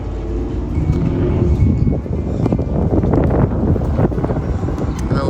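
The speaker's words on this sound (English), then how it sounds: "A little bit of wind coming in." Wind blows through an outdoor pepper garden, buffeting the microphone with loud, rumbling gusts that rise and fall throughout.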